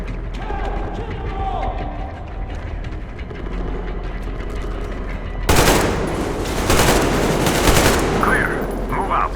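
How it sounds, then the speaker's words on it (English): In the Metro Exodus video game, machine gun covering fire bursts in loud and sustained, following a stretch of quieter mechanical clatter and voices. "Covering fire for the Colonel! No saving ammo!"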